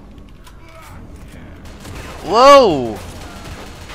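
Cannons firing in a video game: an arcing, siren-like whooshing shot swells up loudly around the middle and fades, over faint background noise, with a brief voice exclamation.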